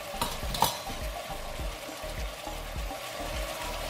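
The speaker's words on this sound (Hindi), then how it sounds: "अब मैं इसमें मसाले डाल रही हूँ" Meat frying in a pan as salt, red chili powder and spices are stirred in for bhuna gosht, a steady close sizzle with soft repeated scraping and stirring strokes, no talking.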